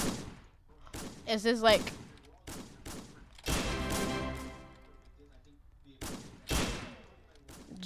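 Revolver gunshots in the Roblox game Wild Revolvers, a string of sharp, loud cracks spaced irregularly across the clip, several in quick succession, with a player speaking briefly between shots.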